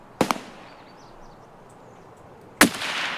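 Two sharp gunshot cracks in a first-person shooter match, a quick double report early on and another loud blast near the end, each followed by a short decaying tail over a quiet backdrop.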